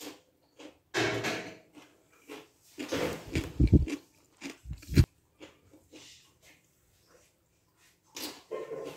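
Loud, close crunching and biting as crisp food is chewed in irregular bursts separated by short pauses.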